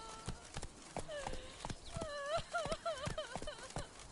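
Horse hooves clip-clop in a steady trot in The Witcher 3 video game, faint and close, with a whinny-like tonal call partway through and a voice speaking over it.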